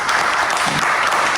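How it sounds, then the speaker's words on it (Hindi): An audience at a staged comedy play breaks into loud, close applause, a dense burst of clapping that holds steady for a moment. "जोरदार तालियां।"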